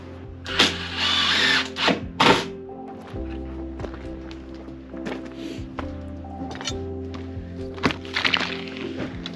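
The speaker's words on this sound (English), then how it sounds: "Filling the old holes with wood so that the new screws can actually bite and hold the hinge without just spinning around." A power drill drives screws into wood to hold a repurposed door hinge, with short whirring bursts, thunks and handling knocks close by, and no talk.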